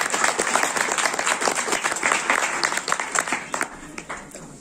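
Audience clapping to welcome Pritam, loud close applause with crisp individual claps, steady at first and then tapering off toward the end.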